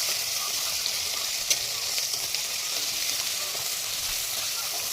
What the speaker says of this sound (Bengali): তো মশলাপাতি দিয়ে দিয়েছে কড়াইতে।